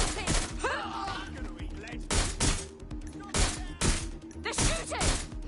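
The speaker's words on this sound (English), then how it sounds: "Suspect is shooting!" Suspects open fire in Watch Dogs: Legion, a rapid series of loud, sharp gunshots in bursts across the moment, punctuated by heavy impacts, with game voices and background noise between volleys.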